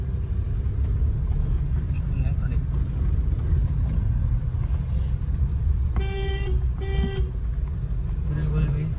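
A Scorpio being driven to its parking spot: steady, close engine and road rumble fills the cabin, with two short horn toots near the end and a voice talking over it.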